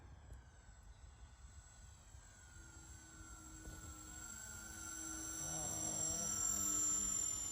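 A radio-controlled model airplane flies overhead, its thin engine whine holding a steady pitch and growing gradually louder toward the end.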